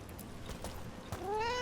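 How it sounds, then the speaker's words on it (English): A house cat meows in the video game Dragon Age: The Veilguard, a single rising, drawn-out call that comes up clearly near the end over a low game ambience. "Kitty. Were you keeping Neve company? Or hoping for a treat."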